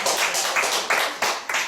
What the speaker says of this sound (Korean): 박수 한번 쳐줘야 돼요